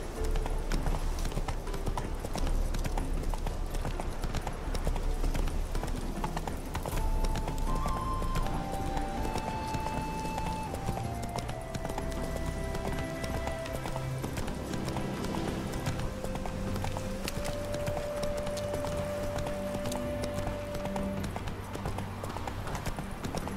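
Horse hooves clip-clopping at a steady gallop in The Witcher 3 video game, rhythmic and continuous under in-game music with brief voice lines heard along the way.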